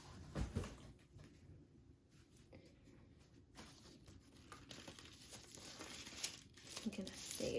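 Honeycomb paper being handled on an office desk, giving quiet, close crinkles and rustles in irregular bursts with a few soft knocks.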